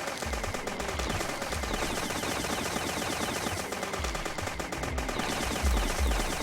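Rapid, sustained automatic gunfire from the Dead Bits video game, loud and dense throughout with steady bursts and low thumps, holding an even intensity with a slight swell near the end.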